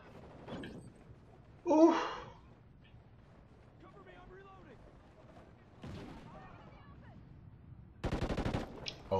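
Gunfire from the Call of Duty: Ghosts video game, in scattered bursts: a sharp shot near the start, another burst mid-clip and a dense rapid volley at the end, with a player's sighs and voice mixed in.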